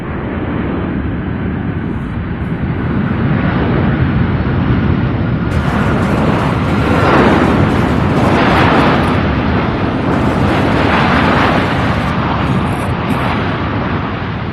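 A UPS jet on the runway at Louisville airport roars loudly under reverse thrust, a broad sustained rumble that swells and holds for the whole stretch.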